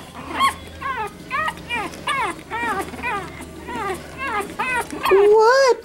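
Several small puppies whimper and yip in short, rising whines close by, while an adult voice speaks to them softly throughout.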